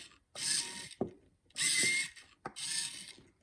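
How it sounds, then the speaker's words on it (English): A servo driving an animatronic alien circus clown head up and down, three whirring motor bursts separated by short pauses and clacks, each run starting and stopping abruptly, close and alone. "I have 1 servo controlling the up and down"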